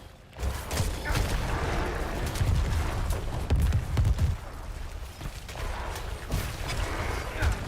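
Necromancer Corpse Explosion blasts in the Diablo IV video game, a dense, continuous run of booming bursts and mechanical crunches layered over one another with steady loudness and no speech.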